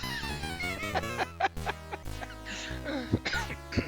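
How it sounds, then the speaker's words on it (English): A few short coughs break through over steady background music with a tonal melody from the C64 game Ghosts 'n Goblins. "Got a little bit of a cough."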